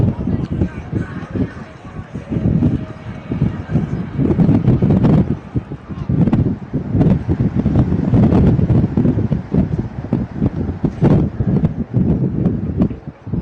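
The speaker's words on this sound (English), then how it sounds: "Thought the wind might be going down there for a minute, but it's back with a vengeance" Strong gusting wind buffets the microphone at an outdoor high school baseball game, a loud rumbling roar that swells and surges throughout, with an announcer talking over it.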